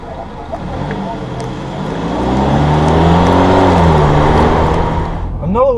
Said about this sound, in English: as soon as you go to press on the gas pedal, the engine will start right back up